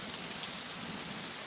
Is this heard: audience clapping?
no